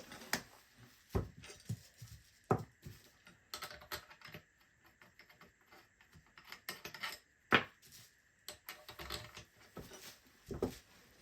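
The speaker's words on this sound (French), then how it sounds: "On vient remettre le canon dans la crosse, comme ceci. Donc on vient remettre le chargeur, comme là." Reassembly of a Mosin Nagant rifle, with the barrel seated back into the wooden stock and the magazine refitted, giving scattered sharp metallic clicks and knocks in quiet, uneven bursts at close range.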